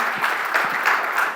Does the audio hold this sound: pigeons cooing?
no